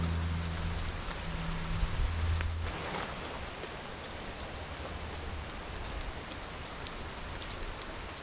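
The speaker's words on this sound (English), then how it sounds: "watch the rain as it falls onto the water" Steady rain patters onto an open quarry lake, a soft continuous hiss of drops with occasional low rumbles from wind.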